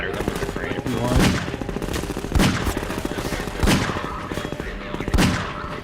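Continuous rapid gunfire in the video game Half-Life 2, dense rattling shots with louder impacts about once a second, under occasional talk.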